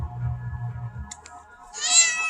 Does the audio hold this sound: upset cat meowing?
yes